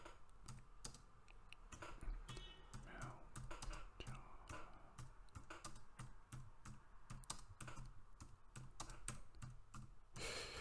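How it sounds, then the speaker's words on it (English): Rapid clicking of computer keyboard keys as a short script is typed, steady and close, with irregular bursts of keystrokes throughout and faint background sound. "all you need to do is type a little script or prompt in here"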